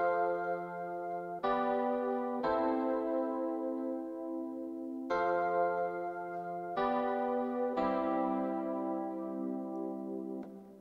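Rhodes electric piano playing a chord progression in Studio One, sustained chords changing every second or two with warm, bell-like tones, heard alone and clear.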